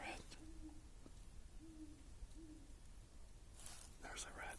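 Owls hoot at night outdoors, three soft, low, short hoots spaced about a second apart over faint background hiss, followed by a brief whisper of talk near the end.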